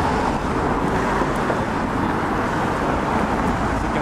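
Street traffic on Spadina in downtown Toronto, a steady dense roar of passing cars and vehicles, continuous and fairly close, with no breaks and no voices.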